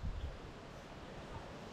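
Brief, faint wind and choppy sea waves off an island during a typhoon, a low steady rush with a slightly stronger gust at the start.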